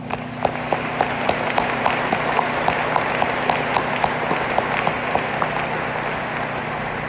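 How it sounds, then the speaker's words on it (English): Applause from a crowd at a U.S. Navy change of command ceremony, honoring the spouses: steady clapping through the whole span with regular sharper claps standing out, moderately loud over a low constant hum. "Round of applause for them."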